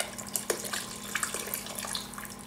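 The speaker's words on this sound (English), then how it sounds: "I put like a cup of water in each, and now all I'm going to do is just pour that in." Water poured from a container into a pot of roasted chicken soup, a soft running splash with a few brief louder spills, close and moderately quiet, with no talking.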